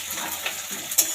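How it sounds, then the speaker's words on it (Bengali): Leafy greens (shaak) fry in a pan with a close, steady hiss and crackle, punctuated by a couple of brief stirring scrapes, no voices. "মা এদিকে এই যে শাক ভাজাটা করছে"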